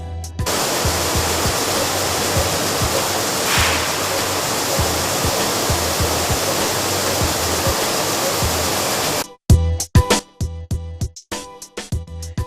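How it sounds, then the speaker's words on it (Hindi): Water rushes and splashes steadily inside a wheat washing system at a flour mill where wheat is washed with clean water. The loud, continuous hiss cuts off suddenly, then gives way to short, irregular bursts of noise. "इस सिस्टम में गेहूं को साफ पानी से धोया जाता है"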